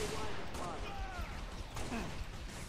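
Rapid turret gunfire in the Halo Reach bridge assault, a dense continuous burst of shots under game noise, with a voice talking over it.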